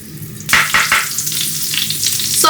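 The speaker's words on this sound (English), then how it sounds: "The butter is now melting." Butter melting in a hot pan, a loud sizzle bursting in suddenly and crackling steadily for a couple of seconds, with no talk over it.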